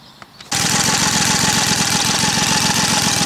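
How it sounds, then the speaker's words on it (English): A small gasoline engine, run after sugar was put in its fuel tank, catches abruptly after a few faint clicks and settles into a loud, steady, rapid putter close by with no talking. "So now I'm going to start the engine"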